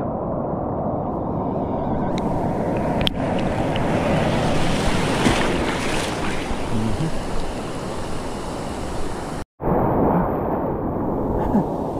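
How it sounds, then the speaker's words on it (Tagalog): Ocean waves slap and wash on a Mexican beach, a loud continuous surf roar with wind buffeting the microphone and one brief cut near the end. "nananampal yung tubig"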